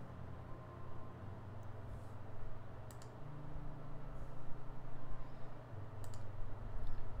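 A malfunctioning computer keyboard gives off sparse, light clicks, single and in quick pairs, scattered irregularly over a steady low electrical hum.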